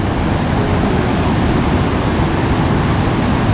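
Vazhachal waterfall in Kerala roars as a loud, dense, unbroken rush of falling water heard up close, with no pauses and no voices over it.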